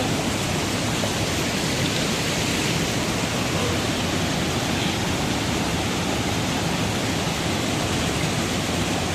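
Rushing water of Putudi waterfall near Phulbani, a dense, steady, loud roar that stays unchanged throughout with no other sounds standing out.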